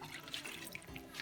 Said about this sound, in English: Finally, it's time to add the water to our tub.